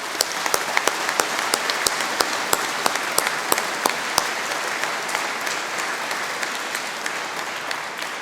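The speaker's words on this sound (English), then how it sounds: "the staff that won that deserve a big round of applause" A room of academic staff and guests applauds a prize-winning engineering team, with steady, fairly close clapping and sharp individual claps standing out, fading gently toward the end.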